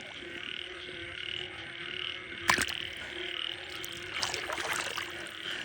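Frogs croak at night during a frog hunt near Ubon on a stormy night, a dense, continuous chorus with a sharp splash or rustle in the middle and busier calls near the end.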